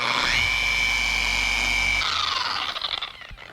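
A car polisher spins up with a high whine, holds a steady hum, then winds down as the pad buffs resprayed car paint.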